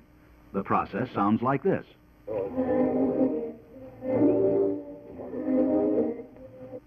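After a brief spoken line, a car radio hisses and warbles through three rising-and-falling bursts of static-laden tone as the antenna trimmer screw is turned back and forth toward peak reception.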